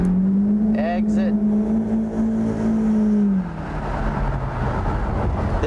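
A race car drives through track corners, its engine holding a loud steady drone that drops in pitch as it slows for a corner, with a voice talking over it.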